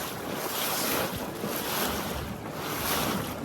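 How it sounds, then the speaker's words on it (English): A boat approaching on the water near the Intracoastal Waterway by Cape Fear, its hull and wake noise washing through strong wind buffeting the microphone, swelling and easing in waves. "Look at that boat coming right at us."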